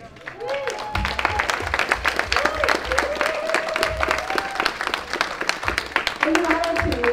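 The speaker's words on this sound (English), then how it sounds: "Let's give them a big round of applause" Church audience applauds a couple in scattered, steady clapping with voices and cheers over it, moderately loud and continuing throughout.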